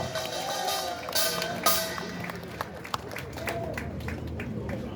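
An audience at an outdoor Marine Corps rally applauds to welcome a guest, a steady wash of clapping from a crowd at a distance, a few sharper claps standing out.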